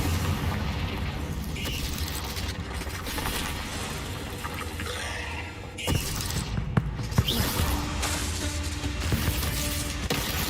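Repeated Confringo blast spells explode in Hogwarts Legacy alongside fire spells, a dense roar of booms and crackling bursts with sharper impacts in the second half, loud and continuous without talk.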